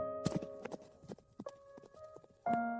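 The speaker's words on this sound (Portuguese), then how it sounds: "monta no cavalo e parte." A horse's hooves clip-clop in a quick, uneven run of sharp strikes as a rider sets off, over sustained tonal music.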